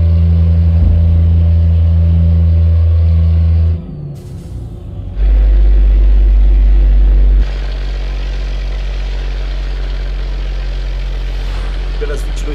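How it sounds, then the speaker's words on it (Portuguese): A Volvo FH5 truck engine in a truck driving video game, a loud droning rumble that steps up and shifts pitch in distinct stages as it revs and gains speed. "Olha, ganhando velocidade, hein? Ganhando giro."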